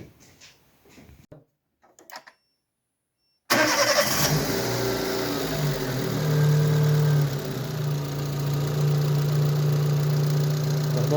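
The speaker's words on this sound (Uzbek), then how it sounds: "Usta, mashinamizni yurgizib bitta motorini ishlash holatlarini bitta ko'rsatasizmi?" A Chevrolet Matiz with a 1.2-litre engine cranks and fires after a few quiet seconds, then idles steadily and loudly up close with a smooth, even drone and no talking.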